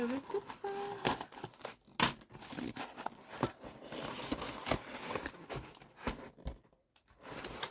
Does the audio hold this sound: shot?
no